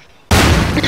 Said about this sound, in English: Holy shit, this bomb's big.